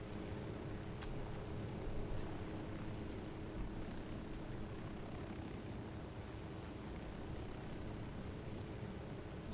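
A helicopter flies in the video game Ghost Recon Wildlands, a steady, moderately quiet engine and rotor drone that holds even throughout, with no voices over it.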